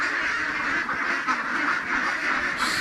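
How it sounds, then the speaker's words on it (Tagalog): A flock of farm ducks (itik) quacking together in a continuous, loud, nearby chorus with no talking. "Dito guys sa ating mga itik"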